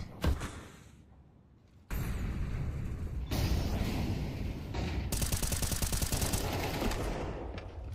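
Gunfire in a competitive tactical shooter match, pistols only, a quick single shot followed by dense, loud, rapid bursts of shots and impacts that keep going for several seconds with no talk.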